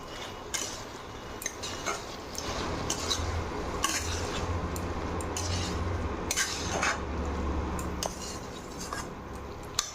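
Fried soy chunks being stirred in a cooking pan, with a run of light clinks and scrapes from a utensil against the pan over a steady low kitchen background, close and moderately quiet.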